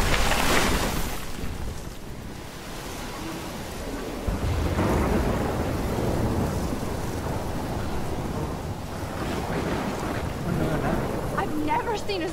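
Heavy Oregon thunderstorm in Life is Strange: loud thunder cracks and rumbling roll over a continuous wash of pouring rain, with a voice speaking beneath the storm.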